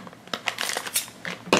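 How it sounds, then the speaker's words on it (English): Dropped scissors clatter down, several sharp knocks and rattles close by, ending with a louder clack. "Whoops, sorry, dropped the scissors."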